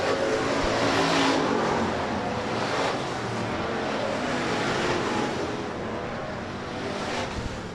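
USRA Hobby Stock race cars roar around the Rapid Speedway oval during a heat race, a steady, loud wash of engine noise with no clear breaks across the whole stretch.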